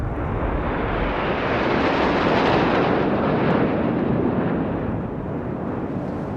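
Indian Air Force jets fly over the Republic Day parade, making a continuous loud, broad jet roar that swells toward the middle and slowly fades away.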